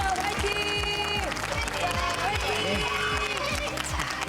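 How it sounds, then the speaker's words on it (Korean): Audience applause cheering a debate team before a reading-debate final, a dense wash of clapping under steady music and a host's voice, continuous and loud for a few seconds. "큰 박수로 잘하라고 응원 보내주십시오"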